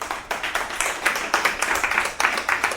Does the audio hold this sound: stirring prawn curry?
no